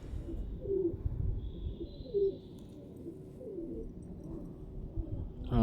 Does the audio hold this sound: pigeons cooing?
yes